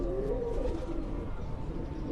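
Pigeons coo softly on a rooftop in Gujarat, Pakistan, a low murmuring call that is faint and steady, with no talk over it.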